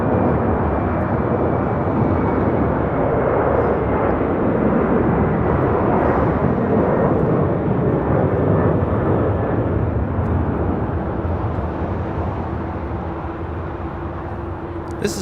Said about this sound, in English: This is Western Global Airlines 6265 taking off to Seoul on a 31-year-old 747-400 converted freighter